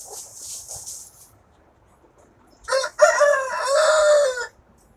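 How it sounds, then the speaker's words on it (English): Backyard hens make soft, faint clucking at first, then after a pause a rooster lets out one loud, close crow lasting nearly two seconds. "This hen is Shiver."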